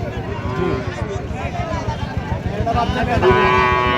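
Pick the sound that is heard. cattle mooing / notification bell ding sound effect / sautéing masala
cattle mooing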